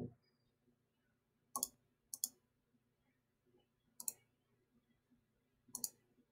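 A computer mouse clicks in short sharp pairs and singles, about five distinct clicks spaced unevenly, close and clear over a quiet room.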